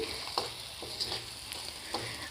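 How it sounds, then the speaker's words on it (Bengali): Lote shutki (Bombay duck) paste is stirred and mixed in a pan over a low flame, with a soft steady sizzle and a few light scraping strokes spaced about half a second apart. No voices. "এখন আরও পাঁচ মিনিট এই একইভাবে ভালো করে নেড়েচেড়ে মিশিয়ে নিচ্ছি"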